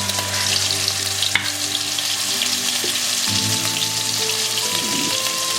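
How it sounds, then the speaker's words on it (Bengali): Mustard paste sizzles in hot oil in a wok for a pomfret fish curry, a steady loud frying hiss with a brief clink near the start and bubbling shifting in tone midway, no talking. "এবার কড়াতে তেলের মধ্যেই সর্ষে বাটাটা দেবো।"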